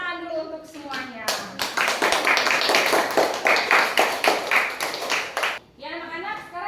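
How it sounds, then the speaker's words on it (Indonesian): Schoolchildren in a classroom clap together in a steady burst of many sharp, rhythmic claps lasting several seconds, with a teacher's voice speaking before and after. "Oke, kita berikan tepuk tangan dulu untuk semuanya."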